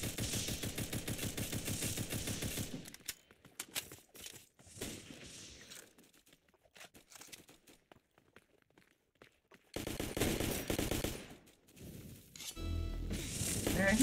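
Video game gunfire, rapid machine-gun bursts at the start and again near the end, with quieter scattered shots and shuffling in between; speech is also present.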